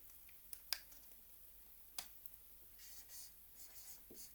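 Pen or marker writing colour names on paper, a quiet scratching with a few sharp ticks and taps, faint and close, with no talking.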